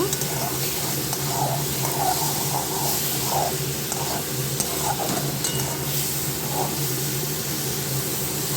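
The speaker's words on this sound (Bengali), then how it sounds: "আর একটু আদা থেতো দিয়ে দিচ্ছি। মশলাটা ভালো করে সাঁতলে নেব।" Spice paste with crushed ginger sautéing in a pan, a steady soft sizzle with faint scraping stirs now and then, no talking.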